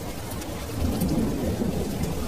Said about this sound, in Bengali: এক মুহূর্তে ঝমঝম করে শুরু হলো মুষলধারে বৃষ্টি, সঙ্গে বজ্রপাতের ঝলকানি।